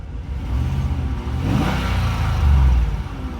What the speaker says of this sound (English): let's give it a little rev here and see how it sounds